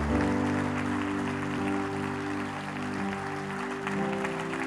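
A church congregation applauding to the Lord during a sermon, sustained clapping from many hands over a held musical chord, fairly close and steady.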